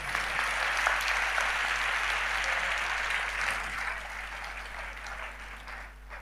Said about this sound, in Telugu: మీరు చప్పట్లు కొట్టారు